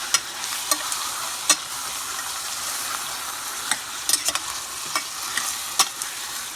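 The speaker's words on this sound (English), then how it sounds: "the garlic and with the onions. Stir it a little bit." Garlic and onions fry in a pan for a chicken stew, a loud continuous sizzle broken by sharp clicks and scrapes of a utensil stirring at irregular moments.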